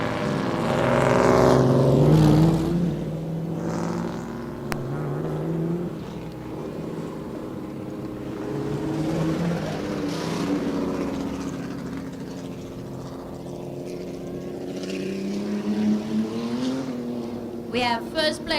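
Race car engines drone and sweep past on the Weskus oval track, a continuous loud roar with rising and falling pitch as cars pass, joined by scattered commentary-like voice in places.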